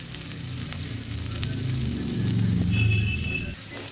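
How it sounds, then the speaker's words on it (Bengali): Bitter gourd and potato fry crisp in oil with a close, steady sizzle and crackle, a faint high tone ringing briefly near the end. "একটু মুচমুচে করে ভাজতে হবে"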